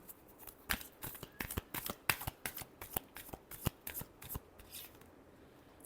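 Tarot cards are shuffled by hand in a rapid series of crisp riffling snaps and flicks, close and fairly loud, with no talking during the shuffle.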